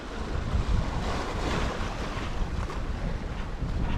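A sailboat under head sail alone runs through trade winds at about 15 knots, riding an ocean swell of around 1.5 meters, with constant rushing wind and wash of water, loud and close.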